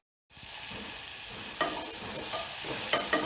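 Chopped onions sauté with a little salt for mutton biryani. A close, continuous sizzle starts after a brief silence, with a few sharp stirring clicks and scrapes scattered through it.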